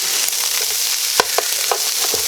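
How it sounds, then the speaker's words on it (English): Loud, steady sizzling of chicken frying in a hot frying pan for chicken adobo, with occasional louder pops and crackles scattered throughout. "So we're going to do it the frying pan this time."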